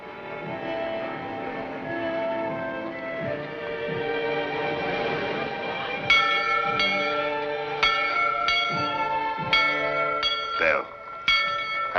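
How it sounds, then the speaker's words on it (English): Church bells ring in a small frontier town, a rich layered peal with sustained overtones, steady at first and then joined by brighter individual strikes at irregular intervals, resonant and fairly near. "always liked bells. Kind of got a song of their own."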